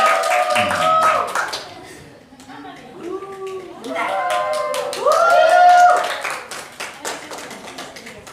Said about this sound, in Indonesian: Kita beri tepuk tangan untuk spesial perpom hari ini